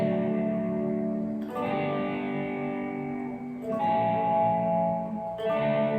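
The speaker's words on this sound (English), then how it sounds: "whenever you hear like a descending lick like that, you kind of know that there's some kind of walk down" An electric guitar plays a sustained, effects-laden descending lick in a worship song, with chorus and reverb washing over the notes. No voices.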